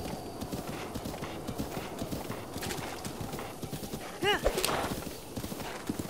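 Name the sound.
horse Epona galloping in video game Zelda Breath of the Wild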